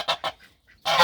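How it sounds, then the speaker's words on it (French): Agitated geese on a poultry farm honk loudly and close by, with two sharp honks followed by a longer, harsher burst. "là il y a les oies"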